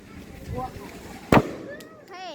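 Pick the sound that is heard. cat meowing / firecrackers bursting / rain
firecrackers bursting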